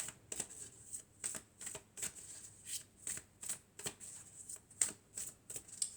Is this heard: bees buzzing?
no